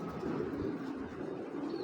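Pigeon cooing in a steady, continuous low murmur close by, with a faint higher tone near the end and no talking.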